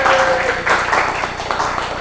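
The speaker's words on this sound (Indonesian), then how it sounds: "beri tepuk tangannya untuk kelompok 5" Classmates applaud a student group during a classroom lesson, a short burst of scattered clapping with a faint tone at the start and a few murmuring voices mixed underneath.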